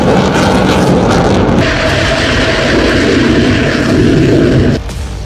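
A fighter jet roaring overhead, a loud, dense broadband rush that holds steady for several seconds before cutting off abruptly.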